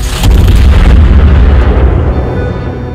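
A German tier 9 cruiser, the Roon, fires a gun salvo in the World of Warships video game: a loud, close, deep boom that rolls and slowly fades over a few seconds.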